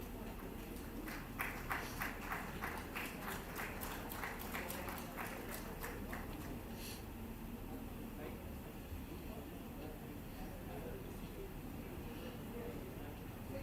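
Audience applause fills a hall during a trophy distribution at an international human rights moot court competition, with a burst of sharp claps in the first seconds fading into a steady crowd wash and background chatter.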